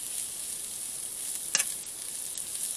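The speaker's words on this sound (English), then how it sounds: "you're gonna stir the onion" Onion sizzles in a frying pan, a faint, steady crackling hiss, with one brief sharp scrape of a stirring utensil midway and no talking.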